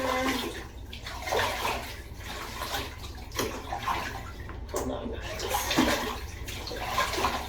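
Dirty car-wash water draining and splashing steadily in a tub, close by, while a person says a few words over it.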